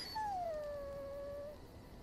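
A dog in the Dragon Age: Origins video game lets out a single drawn-out whimpering howl that slides down and then holds steady for over a second, clear and alone.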